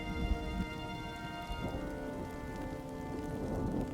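Steady rain falling on surfaces, a dense continuous patter at moderate level with no voices.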